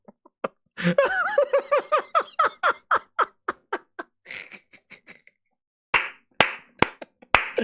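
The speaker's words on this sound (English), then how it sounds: "The crowd goes wild." Scattered claps and laughter from a small group, a crowd sound effect played on a gaming podcast, with a burst of louder claps near the end after a short lull.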